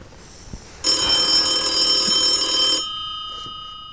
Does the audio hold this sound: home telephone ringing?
yes